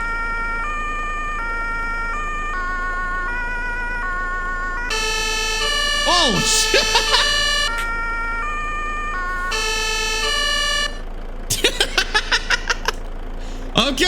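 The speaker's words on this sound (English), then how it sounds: "Watch out, the sirens are loud." A game emergency vehicle siren cycles loud and close, shifting between wailing and stepped electronic tones, ending in rapid yelp-like bursts, with a brief spoken exclamation partway through.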